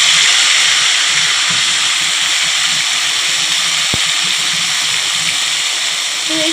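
Marinated chicken sizzles in hot oil for chicken curry, a loud, continuous hiss and crackle close up throughout, with a single sharp knock partway through.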